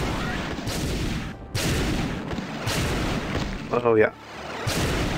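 A few heavy booming shots from a gun in Doom 2 (The Darkening 2, Mars Mercenary mod) punctuate dense game noise, with a short spoken remark near the end.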